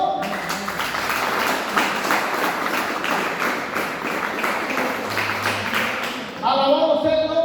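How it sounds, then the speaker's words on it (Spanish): Church congregation applauding the Lord during a sermon, a moderate roll of clapping through the hall that fades as a voice returns near the end. "Denle aplausos al Señor."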